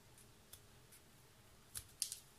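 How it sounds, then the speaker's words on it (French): Scissors trimming off the excess end of paper while making a magic princess wand craft: a faint snip early on, then a few sharp close snips near the end, with quiet room tone between. "on va venir couper le bout qui est en trop"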